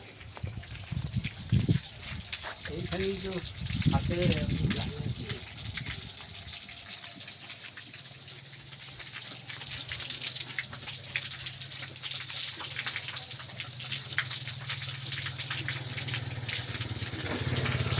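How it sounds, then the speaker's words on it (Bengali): Drinking water pours steadily from a broken tap that cannot be shut off, a continuous hissing gush heard up close, with a few thuds and voices at the start. "এটা বন্ধ হওয়ার কোনো ব্যবস্থা নেই খারাপ হয়ে গেছে এটা এভাবে তো জলগুলো নষ্ট হয়"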